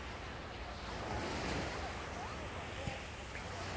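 Night surf rolling onto the sand at Haeundae beach in Busan, a steady broadband wash of breaking waves with some wind noise, continuous and fairly close, no voices over it.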